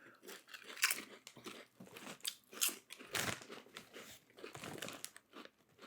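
Cheetos cheese flavored Lays chips crunched by a podcast taster: a run of loud, close, irregular crisp bites and chewing crunches, one after another with short gaps, with no talking.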